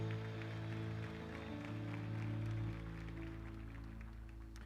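A church congregation applauding, a soft, steady patter of many hands spread under sustained keyboard chords that fill the room, gently fading toward the end.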